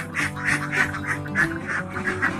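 Laying ducks on a farm quack in a rapid, overlapping chorus of nasal calls, several birds close by and loud, with no talk.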